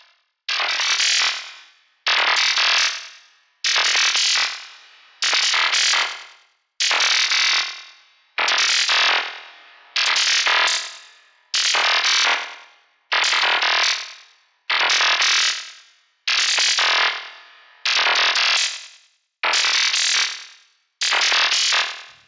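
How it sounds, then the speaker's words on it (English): Albino 3 synthesizer patch using filter FM with reverb: about a dozen evenly spaced, harsh, buzzy tones, each decaying smoothly into a short wash, repeating steadily with no voices. "Reverb."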